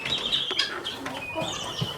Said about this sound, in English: we are going to catch a rooster one by one